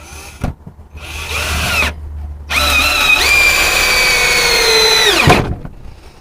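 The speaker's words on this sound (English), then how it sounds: "now this is my other drill. So this is what I normally would be using." A cordless drill whirs in short bursts, then a long steady whine as it drives a screw, ending with a sharp drop as the motor stops.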